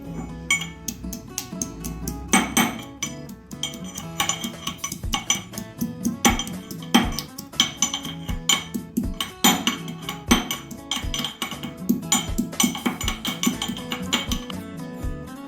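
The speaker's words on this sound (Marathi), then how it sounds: "आता मी चार पाच लसणाच्या पाकळ्या ठेचून घेते" Garlic cloves, four or five of them, are crushed in a kitchen for a quick mung bean dish, giving repeated sharp metallic pounding and clinking strikes in an uneven rhythm, loud and close, with no talking.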